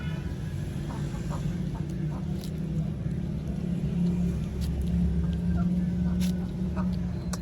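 Chickens cluck steadily as grain is scattered for them at a home yard, a continuous close murmur of fowl with a low background hum and scattered small peck and rustle clicks.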